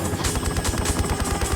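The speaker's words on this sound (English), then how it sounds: "I don't like the sound of helicopters shooting at us" Helicopter gunfire in Tomb Raider V Remastered, New York level, a loud continuous rotor thrum laced with rapid rhythmic shooting bursts, dense and close, no speech over it.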